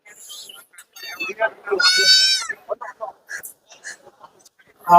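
Young goat kids, one about 25 days old, bleat at the Kunnathur goat market; one loud, drawn-out bleat rises clearly in the middle, and a few shorter calls come through amid continuous close talk.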